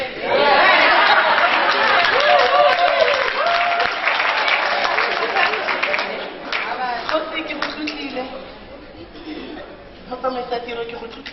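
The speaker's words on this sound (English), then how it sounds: "Can we give her a round of applause?" A crowd at a Women's Month event applauds Ms. Sylvia Mokaila with loud, sustained clapping that slowly thins, leaving scattered claps under chatter and light laughter near the end.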